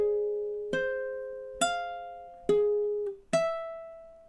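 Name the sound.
ukulele playing measure 10 of a Hawaiian song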